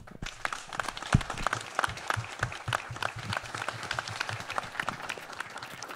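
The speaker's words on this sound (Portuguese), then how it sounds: "uma salva de palmas para o Vils e o Andreino" A small crowd claps at the inauguration of a new health clinic and renovated sports hall in Salitre de Minas, with steady, moderately faint clapping where individual hand claps stand out throughout.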